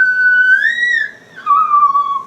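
A person whistles a gliding pitched note, imitating a singer's whistle register, rising and wavering before breaking and settling into a lower sustained tone, close and clear with no talk.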